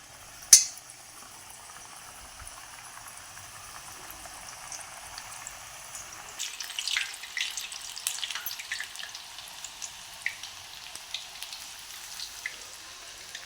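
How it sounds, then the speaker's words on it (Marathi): Wheat-flour chakli dropped into hot oil, giving a faint, steady bubbling sizzle after an initial sharp knock, growing busier with crackles in the second half, no voices. "चकल्या तयार करून ठेवलेल्या आता ह्या आपण आता तळून घेऊया तेल तापलेलं आहे याच्यामध्ये सोडून घ्यायच्या"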